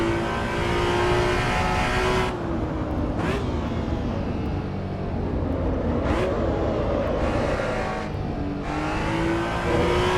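A race car in Assetto Corsa EVO runs at full throttle, its engine note climbing steadily and broken by a few brief gear-shift cuts, loud and close throughout with no talk.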